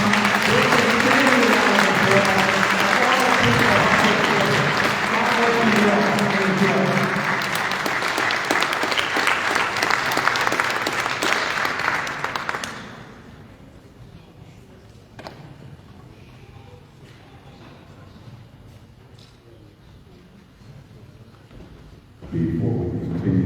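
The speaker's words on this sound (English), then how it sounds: "Give them a round of applause, ladies and gentlemen." Audience applause in an auditorium at a swearing-in ceremony for a New York State Senate member in Brooklyn: loud, sustained clapping for about twelve seconds, then it drops away to a quiet room with faint scattered sounds.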